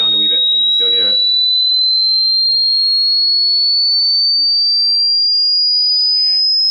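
Pure high-pitched test tone sliding slowly and steadily upward in pitch, loud and constant throughout, with brief talking at the start and faint voices near the end.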